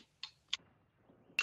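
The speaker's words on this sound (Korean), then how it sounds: "왜 키보드 소리?" Keyboard clicking during a competitive Overwatch match: a few sharp, isolated clicks spaced irregularly over a quiet background, fairly faint, with no one talking over them.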